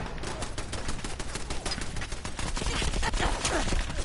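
Rapid turret gunfire in a survival shooter game, a dense unbroken stream of shots rattling loudly through the whole stretch with some game noise layered in.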